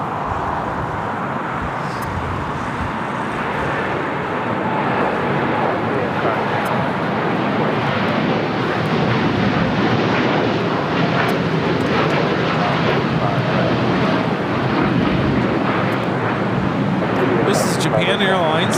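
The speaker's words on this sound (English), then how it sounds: "Japan Airlines, flight 69, taking off to Osaka on a 787-9 Dreamliner." A Japan Airlines Boeing 787-9 Dreamliner takes off from LAX bound for Osaka, its engines producing a loud, sustained roar that builds slightly and holds steady, with people talking faintly underneath.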